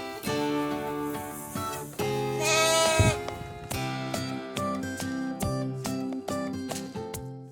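Lambs bleat in a farm shed holding over a hundred of them, with many overlapping high, wavering cries, some near and loud, others farther back, calling almost continuously.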